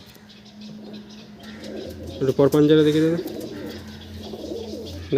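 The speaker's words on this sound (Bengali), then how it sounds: "এটা সাহারানপুরি নাপতা পায়রা থাকছে" A Saharanpuri Napta pigeon coos in a loft, a short rolling call rising near the middle amid steady background hum, while someone talks over it.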